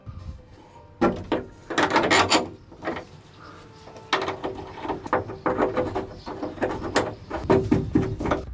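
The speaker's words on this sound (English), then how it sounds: "So I'll be able to tighten them up now." Roof box clamps being tightened on a van roof, with repeated ratcheting clicks and mechanical rattles in several bursts, fairly close and loud.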